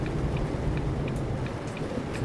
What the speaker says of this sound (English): God, I wish this rain would give up.